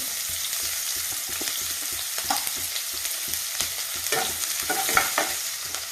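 Onions frying in oil on a stove for drumstick-leaf rice give a steady close sizzle, broken by scattered clicks and scrapes of a spoon stirring the pan, with no voices.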